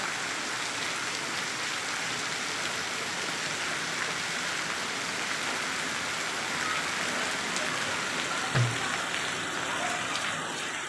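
Steady rain pours down, a dense even hiss of drops on surfaces with no pauses, and one brief low thump near the end.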